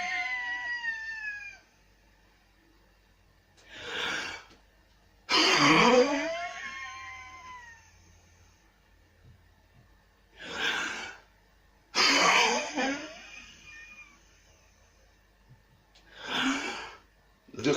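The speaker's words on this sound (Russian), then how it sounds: "Йоговское дыхание эффективное при кашле, простуде, особенно бронхит." Yogic breathing exercise against cough and bronchitis: several forceful, raspy exhalations and coughing bursts in a repeating cycle, separated by quiet pauses, close and fairly loud with no talk.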